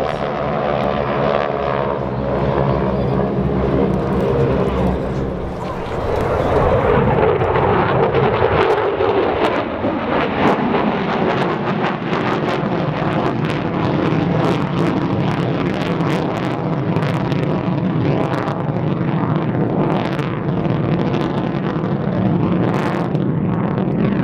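Aerobatic airplane performing at the 2016 Tampa air show in Florida, a loud propeller engine drone that shifts from a steady harmonic tone to a rough, roaring sweep as it maneuvers close by, with crowd noise beneath.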